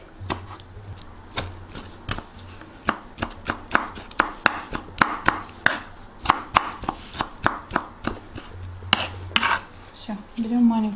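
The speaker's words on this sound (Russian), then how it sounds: "мелькенько нарежем" A knife finely chops vegetables on a cutting board for Azerbaijani kələm dolması, a long run of crisp, close knocks in an uneven quick rhythm, slowing briefly before picking up again.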